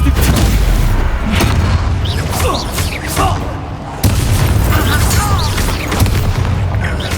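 The Bombarda blasting spell in Hogwarts Legacy sets off a series of heavy booming explosions during a fight, loud thumps repeating every second or so over a rumbling bed, with brief voices and whooshing spell effects in between.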